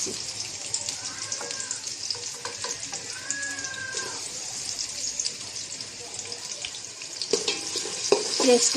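Onion frying in oil in a pan over a gas cylinder burner, a steady sizzle with stirring and utensil scrapes, growing louder near the end.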